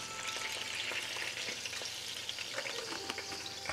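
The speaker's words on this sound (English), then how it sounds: "I'm gonna add a couple of tablespoons of garlic." Store-bought minced garlic sizzles in a hot pan for beef stroganoff, a steady close crackle with occasional stirring scrapes and small pops, no talking.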